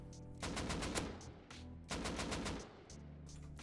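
An AK-47 rifle sprays full-auto in the survival game Rust: loud, rapid cracking bursts, three long strings of fire separated by short pauses, with no talking.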